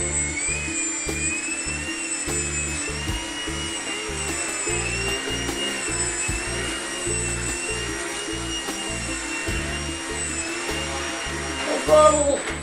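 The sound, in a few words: RC model airplane electric motor running at full power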